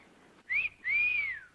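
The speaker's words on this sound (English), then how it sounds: "Ernie blows whistles, that's what you want." A whistle is blown twice at close range, first in a short bright blast and then in a longer sustained one, with a soft low buzz beneath the tone and no talk.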